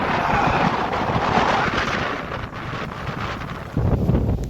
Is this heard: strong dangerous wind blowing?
yes